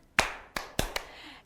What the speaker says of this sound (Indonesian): Kalau kau senang hati tepuk tangan.